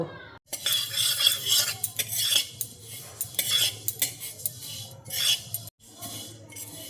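Sesame seeds being dry roasted in a kadai over a gas stove, stirred steadily so that bursts of scraping and light rattling come close and continuous, with a brief pause near the start and another near the end.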